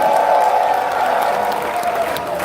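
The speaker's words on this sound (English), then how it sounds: "This man here, I want us to clap for him." A crowd at a gathering applauds and cheers loudly, forming a dense, steady wash of clapping and voices that lasts throughout.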